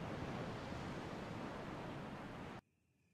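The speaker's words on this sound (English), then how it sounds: "You can hear the sound of a waterfall in the distance." A distant waterfall in the Resident Evil Remake video game makes a steady, broad rushing roar that runs unchanged for about two and a half seconds, then cuts off abruptly into near silence.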